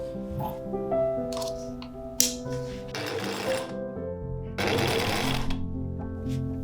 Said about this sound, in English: sewing all the layers together with a wide stitch on the sewing machine